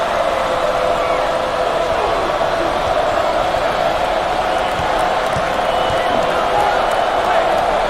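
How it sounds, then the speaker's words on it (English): Crowd noise from an NCAA college basketball video game, a steady loud arena roar that swells like a chant throughout, with commentary-like speech mixed in. "The crowd begins to chant."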